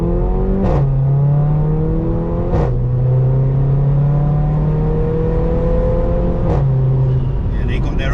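A Mercedes A45 AMG engine runs loudly close by, its pitch rising steadily in repeated revving pulls with brief drops between gear changes, with no talk over it.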